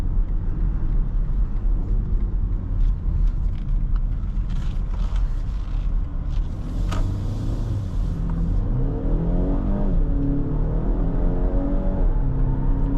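A BMW X1 xDrive28i M Sport's turbocharged engine rises in a steady in-cabin rumble as it accelerates out of a U-turn, revs climbing through several gear stages with road noise beneath.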